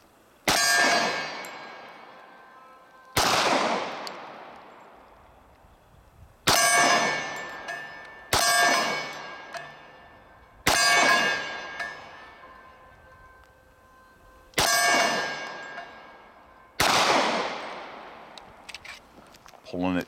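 Pistol shots from a Dan Wesson Vigil CCO 1911 ring off steel targets, about eight sharp reports, each followed by a bright clang with a long decaying ring, spaced a few seconds apart at an irregular pace.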